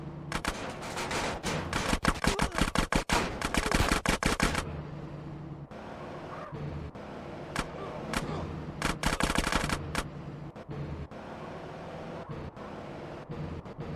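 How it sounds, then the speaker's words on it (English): Drive-by gunfire in GTA San Andreas, with gang members shooting from a car at rivals: rapid machine-gun bursts crackle in several close, loud volleys separated by brief gaps and a low engine drone. No one speaks. "let Ryder, Sweet, and Big Smoke shoot at rival gang members"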